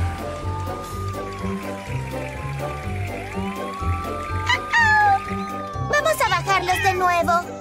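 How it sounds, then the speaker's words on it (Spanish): A cartoon kitten meows high in a tree, several quick, bright mewing cries near the end over a busy animated soundtrack with music and voices. "¡Ven, gatito, gatito, gatito!"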